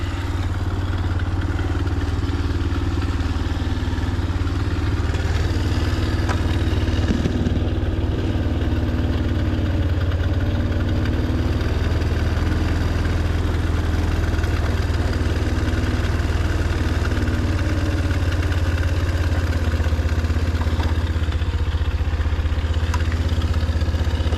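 A 2020 Boom Vader Gen 2, a Grom-clone motorcycle with an upgraded carburetor, idles steadily at close range during idle adjustment, a continuous low rumbling putter that stays loud throughout with no speech.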